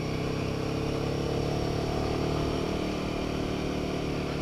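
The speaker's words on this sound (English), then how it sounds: "Chugging a bit there, it's quite a steep hill" A Royal Enfield Himalayan 450 motorcycle engine chugs steadily under load up a steep hill, a continuous low rumble with a labouring, uneven note throughout.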